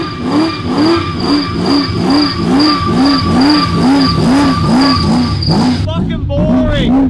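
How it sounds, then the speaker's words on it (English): An HSV GTO coupe doing a burnout in first gear on the brake: a loud engine held at high revs with a rhythmic rising-and-falling surge and tyre whine, then cutting off abruptly near the end, with voices underneath. "the first skid I'm going to show you is going to be in your first gear on the brake"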